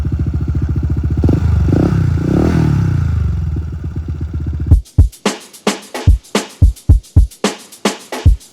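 Honda ADV 160 scooter with an MTRT Evo 2 aftermarket exhaust, loud and close: a rumbling idle with a couple of revs, then a rapid series of sharp, popping throttle blips in quick rhythm toward the end.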